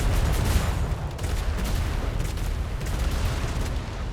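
Ship cannons fire in a naval video game battle, a loud sustained barrage of overlapping booms and rumbling blasts filling the whole stretch without pause.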